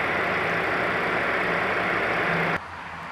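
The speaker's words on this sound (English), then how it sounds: "And underneath the hood, there's a V6" A Ford Explorer's 3.5-liter V6 engine idling, a steady close rumble that drops in level abruptly near the end.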